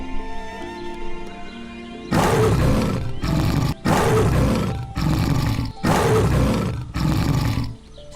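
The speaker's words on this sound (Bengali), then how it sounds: "তুই একদম জোর করে গর্জন দে" Cartoon tiger letting out a series of loud, sustained roars in several bursts, close and dominant over faint background music.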